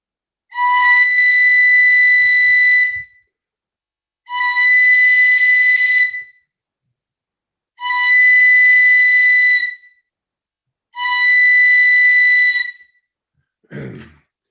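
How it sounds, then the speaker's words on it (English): An eagle bone whistle blown in four long, steady, piercing shrill blasts of about two seconds each, with short pauses between, loud and close, before a prayer, ending with a brief breathy sound. "I'd like to call our relatives, this eagle bone whistle here"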